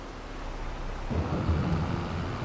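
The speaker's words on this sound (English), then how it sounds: "it's raining today, but that doesn't matter" Steady rain falling in the Farming Simulator 22 video game, a constant soft hiss of rainfall with a low rumble that swells partway through, like distant thunder. No voices are heard.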